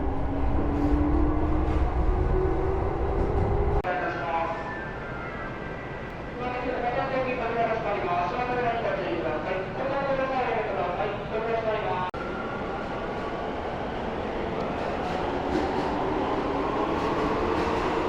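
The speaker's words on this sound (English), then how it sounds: "I think my train's coming." A train pulling into a station in Akihabara, Japan: a low rumble, then rising and falling tonal whines from the motors and a steady rolling roar, heard at platform distance with a voice talking over parts of it.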